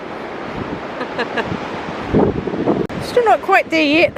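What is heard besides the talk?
wind and large waves on a beach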